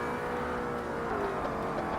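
A Ford Mustang race car engine in Forza Motorsport, droning steadily with a wavering, oscillating whine layered on the engine note, constant and fairly close.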